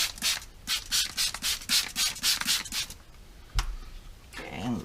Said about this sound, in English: Okay, I'll use the brush.